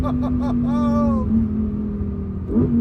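A 2023 Lamborghini Huracan Tecnica's 5.2-liter V10 drones steadily while cruising, with a brief rising rev near the end, heard from inside the cabin as a voice talks over it.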